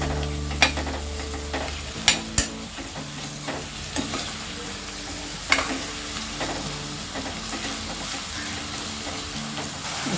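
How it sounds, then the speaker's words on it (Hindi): Onion and a large finely chopped tomato fry in a pan for a spiced Maharashtrian rice dish, a steady soft sizzle broken by a few sharp clinks and scrapes of stirring. "दो मिनट अनियन फ्राई होने के बाद हम डालेंगे ये 1 बड़ा टमाटर जिसे हमने"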